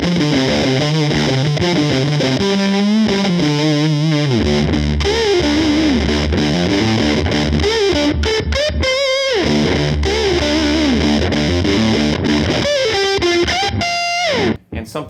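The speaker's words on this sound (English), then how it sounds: "So why don't we crank the fuzz up a little bit? Turn the treble up a little bit." Electric guitar played through a Donner Stylish Fuzz mini pedal with the fuzz and treble raised, giving a loud, saturated, sustained distorted tone with chords and riffs that continue unbroken for about fifteen seconds, then cut off abruptly at the end.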